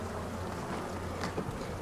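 Honey bees buzz steadily around a hive after a hard winter, a continuous close drone filling the short stretch with no talking.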